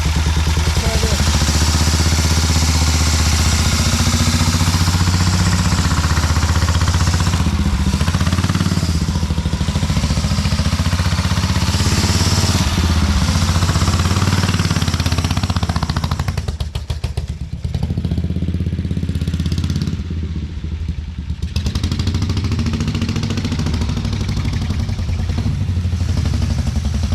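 A 1950 BSA B33 single-cylinder motorcycle engine runs steadily with a slipping clutch, a loud close thumping idle with mechanical clatter, briefly dipping and revving midway before settling back to a steady beat.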